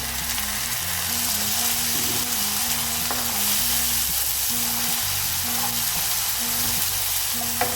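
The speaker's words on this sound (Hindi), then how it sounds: "अदरक और लहसुन को अच्छे से फ्राई करना जरूरी है" Steady sizzling and crackling of garlic-ginger paste frying in hot oil, with occasional scraping of a spoon stirring in the pan.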